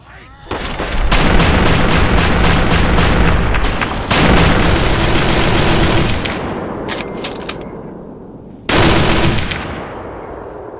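Sustained automatic gunfire in a Fallout 3 battle inside a ruined mall, loud rapid bursts running for several seconds, pausing briefly, then resuming with a final heavy burst near the end.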